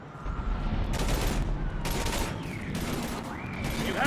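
Gunfire in Mass Effect 3, rapid bursts of automatic shots in repeated volleys over a rumbling battle backdrop, loud and close.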